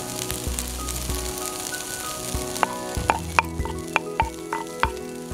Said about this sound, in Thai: ผัดนิดหน่อยแล้วก็ปิดไฟได้เลยค่ะ เราผัดให้เข้ากันเรียบร้อยนะคะ